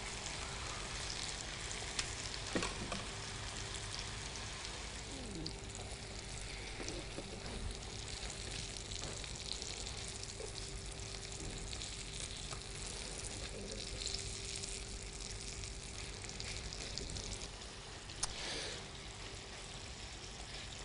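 A haddock fillet sizzles steadily in a hot frying pan, a continuous soft crackle with a faint steady hum beneath and a couple of small knocks, quiet and unbroken, with no voice present.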